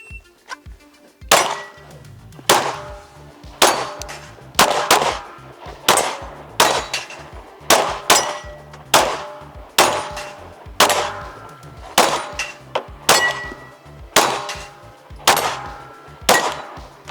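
Bullets striking steel shooting targets at a range, a loud series of sharp metallic clangs and pings arriving about once a second, each with a short ringing tail.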